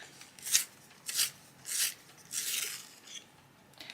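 A colouring pencil turning in a handheld sharpener, five soft scraping rasps of wood being shaved in an uneven rhythm, faint and close, with no talk.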